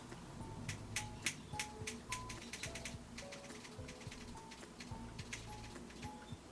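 Scissors snip through hair while curtain bangs are trimmed at an angle, giving a quick run of crisp, close metallic clicks in an uneven rhythm over a soft background hum.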